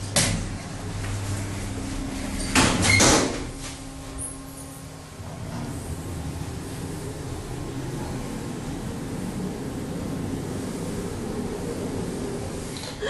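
Hydraulic Otis lift doors at Westfield Queensgate slide slowly, with a couple of soft clunks early on, then a steady, low mechanical hum and faint room noise that continue for the rest of the stretch.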